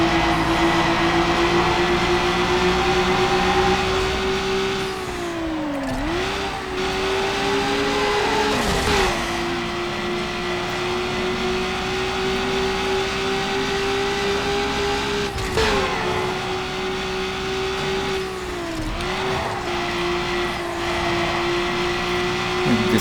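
Acura Integra Type R race car in Need for Speed Underground, engine wailing loud and close, climbing in pitch as it builds speed, dipping briefly at each gear shift before revving up again.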